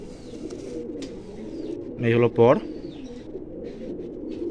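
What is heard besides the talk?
pigeon cooing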